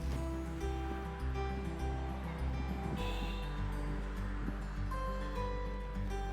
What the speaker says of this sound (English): We see a bustling Marine Drive with the sound of waves crashing in the background